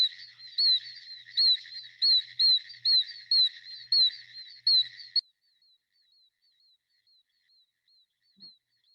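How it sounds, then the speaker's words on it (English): Oak toads calling in a wetland of the coastal plain: a rapid series of high, shrill peeping chirps like baby chicks, repeated loudly for about five seconds, then trailing into fainter, more distant peeps. "So let's hear this oak toad."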